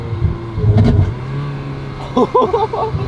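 Ferrari 360 Spider engine blipping and downshifting, a loud throaty rev burst near the start fading into idle, with people talking briefly afterward.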